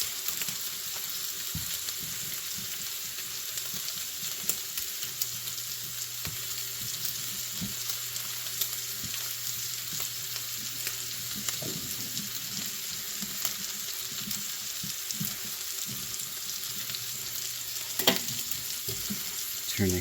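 Sausage and eggs for a breakfast casserole sizzle steadily in a cast iron pan, with an occasional scrape of stirring and no voices, a continuous close frying hiss throughout.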